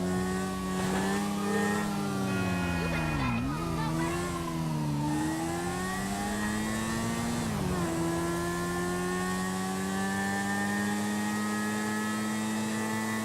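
A car in the GTA 5 video game accelerates hard, its engine note climbing and dipping through gear changes before holding a steady high whine, loud and continuous throughout with a voice talking over it.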